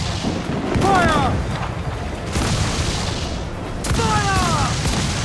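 Ship cannons fire broadsides in Assassin's Creed IV Black Flag, heavy booming volleys with rumbling low blasts, shouted voices rising over the barrage and a second volley arriving a few seconds after the first.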